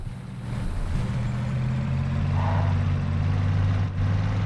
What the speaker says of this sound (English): it sounds different too, which is really nice. Sounds like a truck.